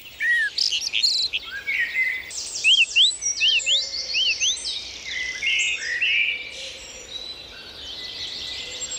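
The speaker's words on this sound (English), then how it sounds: "you will hear lots of different birds singing a dawn chorus" Many birds chirp and whistle in overlapping bursts of a woodland dawn chorus, bright rising and falling calls near and far, with no voices.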